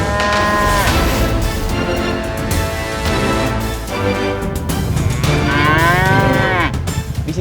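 Cattle lowing loudly on the Doro Ncanga savanna in Indonesia, with two long, drawn-out moos close by over a low rumble of outdoor background noise.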